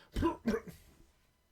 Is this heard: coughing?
yes